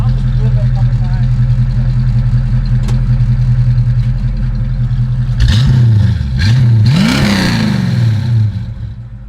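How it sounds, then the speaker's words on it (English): A 1965 Ford Mustang convertible's V8 idles through its stock exhaust with resonator, a deep, steady rumble, then gets revved a few times, each blip swelling loud and falling back to idle. "So again, this is just the stock exhaust with the resonator."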